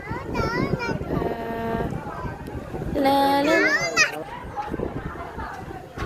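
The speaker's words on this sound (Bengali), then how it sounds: "চিল্লাচ্ছে সবাই।" A crowd shouting and calling out on the bank of the Ganges, with children's high excited cries and overlapping voices close by under wind noise, one sustained loud shriek rising in the middle.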